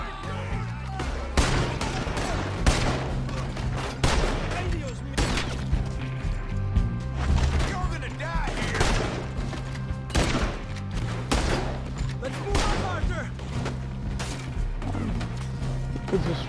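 Repeated gunshots and impacts ring out from a Wild West shootout in Red Dead Redemption, a dense, continuous stream of loud cracks over game music and effects that lasts the whole stretch.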